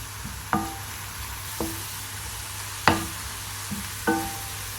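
Onions frying in a pan for a Goan chicken vindaloo, with a steady background sizzle broken by four distinct scraping stirs of a spoon spaced about a second apart.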